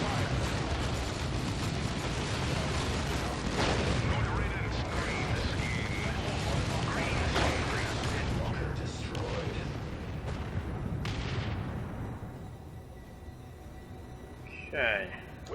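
Artillery shells rain down in Dawn of War II Retribution, a dense, roaring barrage of repeated booms and blasts that slowly thins toward the end, with a voice briefly speaking near the close.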